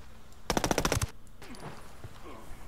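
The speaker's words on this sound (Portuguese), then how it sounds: "eu descarreguei a arma no cara" A burst of rapid automatic gunfire in the Ghost Recon Wildlands video game, about a dozen close, loud shots in quick succession, followed by quieter scattered game sounds and faint voices.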